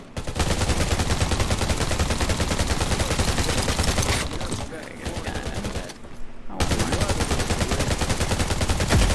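Sustained machine gun fire in the video game Undawn, loud and continuous rapid bursts with a brief lull midway before the shooting resumes, with a player's voice talking over parts of it.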